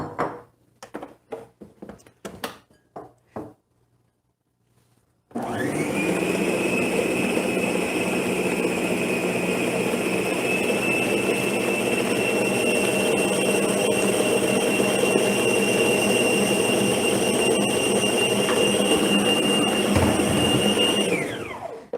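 After a few seconds of clattering and quiet, a stand mixer whirs steadily as it beats liquid into cake batter, a strong, even motor whine with a sustained high tone that holds for about sixteen seconds before winding down.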